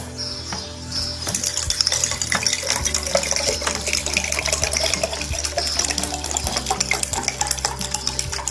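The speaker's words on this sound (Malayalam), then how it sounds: "ഇത്രയും വെള്ളം ഒഴിക്കണം" Water pours into a bottle while making a mocktail, a steady close splashing stream with bright gurgling and faint clinks, continuous after a short quiet start.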